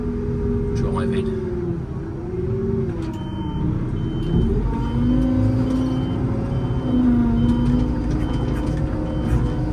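A farm vehicle creeps forward toward a 20-ton trailer, its engine rumbling steadily while repeated reversing beeps ring out clearly across the clip, with someone talking over it.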